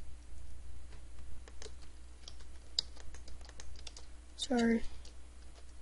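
Computer keyboard typing and mouse clicks during a Minecraft building session, a steady patter of close, light taps, with a voice speaking briefly partway through.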